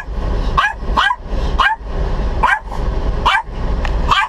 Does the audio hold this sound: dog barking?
yes